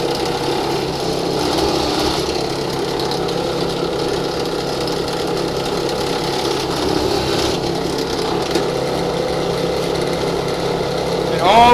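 A drill runs steadily while boring holes into a board for an indoor barn gate, a continuous motor whine that holds for the whole stretch at close range and swells louder right at the end.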